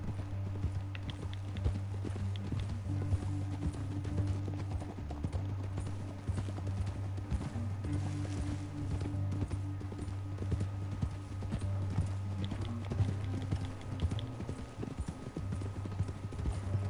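Steady clip-clop of horse hooves at a trotting rhythm in Red Dead Redemption II, continuous and moderately quiet over a low background hum.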